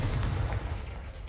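A Confringo fire spell from the video game Hogwarts Legacy blasts with a heavy, booming rumble that stays loud and dense for the whole brief moment.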